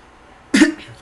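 A single short, sharp cough bursts out of a quiet background and fades within a moment.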